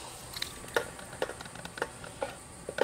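Onion and mushroom cooking in a pan, with a faint steady sizzle and a series of soft scraping or clicking stirs at roughly regular intervals.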